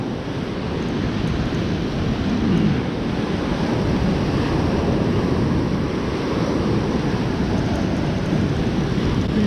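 Ocean surf breaks steadily on a Gulf beach at Fort Morgan, Alabama, a continuous loud roar of waves mixed with wind buffeting the microphone, one swell peaking near the start, with no talk.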